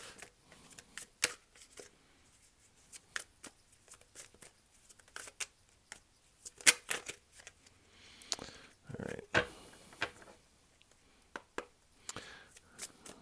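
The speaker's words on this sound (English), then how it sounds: "Do you have 2 more cards you would like to lay out here?" Tarot cards are shuffled and laid out in a tarot reading, with irregular riffling flicks and soft slaps of cards coming in scattered bursts, close and quiet.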